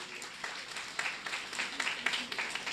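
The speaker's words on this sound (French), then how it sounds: "ils méritent des applaudissements" Applause for students at a school eloquence contest, a modest, quiet patter of clapping from a small audience, with irregular hand claps rising and falling over a few seconds.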